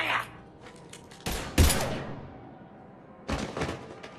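Gunfire in the video game Mass Effect 3 comes as a few sharp separate bursts with quiet gaps between them, and there is faint game ambience underneath.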